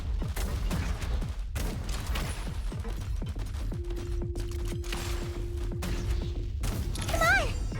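Rapid gunfire crackles in dense volleys through a Genshin Impact battle. Heavy thuds and whirring effects sit under it, and a voice speaks briefly near the end.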